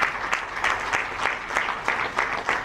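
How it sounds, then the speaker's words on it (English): An audience at an International Youth Day event in Freetown claps in a loose, rhythmic pattern of repeated bursts, moderately loud with a roomy sound. "Let us clap and usher Mr."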